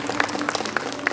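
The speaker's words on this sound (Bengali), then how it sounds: "একটু করতালি হোক" Audience at an anniversary cultural programme clapping, a brief burst of scattered hand claps, moderately near and fairly light.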